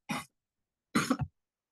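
A short cough followed by a pause, then a harsher cough with throat clearing, close and clear against silence.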